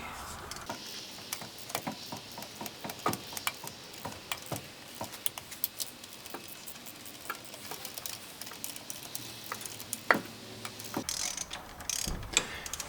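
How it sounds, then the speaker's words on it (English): Torque wrench ratcheting and clicking while tightening bolts on a 1977 Toyota SR5 pickup during reassembly, a steady run of close, sharp mechanical ticks with occasional louder clicks and no talk. "when you sweep through with your torque wrench, make sure you get enough of a bite that you know it's going to click"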